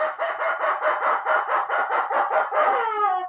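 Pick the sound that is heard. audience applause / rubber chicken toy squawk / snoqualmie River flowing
rubber chicken toy squawk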